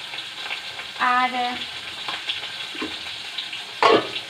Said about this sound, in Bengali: মাছটা ভাজতে বসিয়ে দিয়েছি।